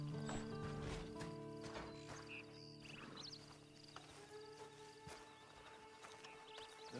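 Horse in the video game Red Dead Online, with hoof clip-clop and a brief whinny heard among game music and ambient tones, moderately loud throughout.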